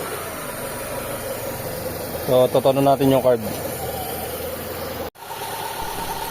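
A Mitsubishi Lancer engine, its carburetor just adjusted, idles steadily up close with a low, even rumble, while someone briefly talks over it midway.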